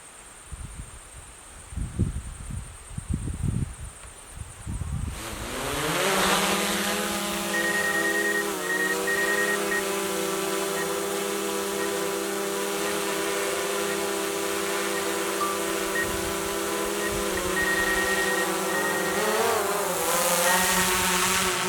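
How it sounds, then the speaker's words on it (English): After a few seconds of close rustling and handling, a drone's motors spin up and hold a loud, steady whining buzz with a rich harmonic drone as it launches and flies over a road, staying near throughout. "I'm going to send it up and film the road with the drone"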